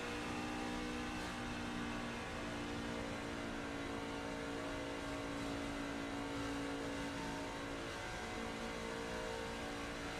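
A truck engine revs steadily while downshifting into first gear, a continuous loud drone with a slight pitch change partway through, heard alone without any talking.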